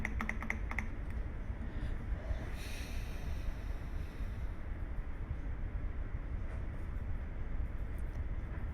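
Computer keyboard typing, soft clicks near the start against a steady low background hum, faint and close, with no talking.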